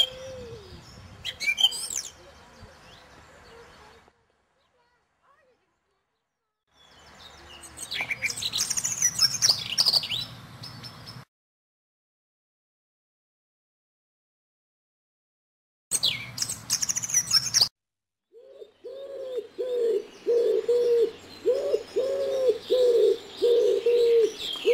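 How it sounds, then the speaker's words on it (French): Wild birds in a nesting area chirp and call in bursts separated by silent gaps, ending in a dense run of repeated coo-like notes and tweets, fairly close and with no speech. "Et tous les oiseaux répondent par des piaillements joyeux."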